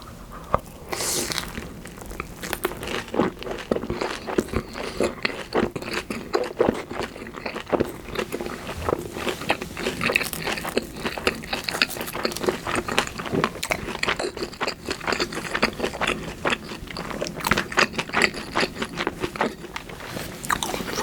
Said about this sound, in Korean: 다음에 모짜렐라를 뭐 올린 핫도그를 먹어볼게요.